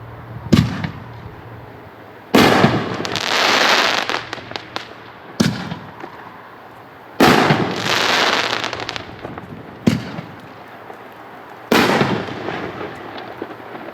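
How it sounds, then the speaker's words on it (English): A 6-inch artillery shell firework with a ring, or portal, effect is set off repeatedly. Five loud launch thumps sound at intervals, and each is followed by a sharp burst and a crackling, hissing decay, with no voices. "This is a 6-inch artillery shell, case pack 12/6, with a ring effect."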